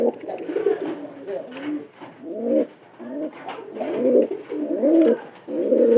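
Pigeons in a loft with nesting pairs and newly hatched chicks coo repeatedly in soft, throaty rolling phrases, several birds overlapping up close in an otherwise quiet space.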